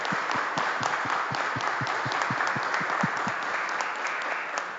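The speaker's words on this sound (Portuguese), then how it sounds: "peço uma salva de palmas para eles também" People attending a public hearing in Afonso Cláudio give a round of applause, steady rhythmic clapping from a modest crowd that stays even and moderately loud for several seconds.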